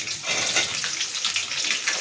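Onion sizzles steadily in hot oil with mustard seeds and urad dal, a continuous bright frying hiss held close and even for about two seconds, with no voices.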